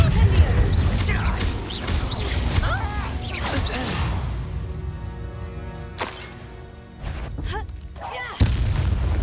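Fiery spell effects from Hogwarts Legacy's Incendio fire spell in the Map Chamber, with repeated whooshing bursts and crackling impacts over a low rumbling game ambience.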